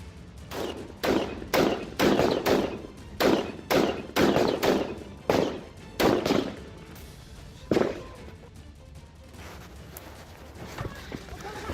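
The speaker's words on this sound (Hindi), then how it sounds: "वीडियो में आगे दिखा कि 2 आतंकी सुरक्षा बल की बस के बेहद करीब पहुंचकर फायरिंग कर रहे हैं" Burst of gunfire as terrorists attack a security forces bus in Baramulla, with sharp, loud reports in a rapid, uneven volley for about eight seconds, then a few scattered shots trailing off.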